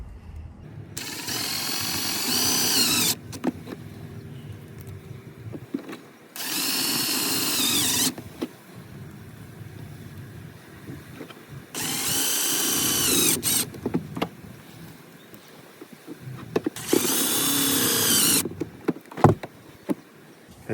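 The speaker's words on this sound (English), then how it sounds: "it's a good time to put these screws into position to just hold and locate our plate" A power drill drives four black screws to locate a mounting plate during a dual battery accessory harness install on a Suzuki Jimny. It comes in four sustained whirring bursts of two to three seconds each, with clicks and handling noises between them.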